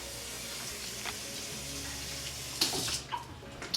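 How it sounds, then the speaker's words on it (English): Water pours steadily into a bowl of mung bean dumpling dough mixture, a soft continuous trickle with a few light splashes and clinks near the end. "Add some water."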